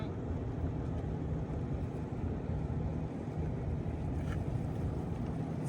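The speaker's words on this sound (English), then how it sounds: "It's good to rinse your hose out" Water gushes steadily through an RV hose being rinsed out at a campground in La Posa South, Quartzsite, Arizona, making a continuous, close rushing hiss with no pauses.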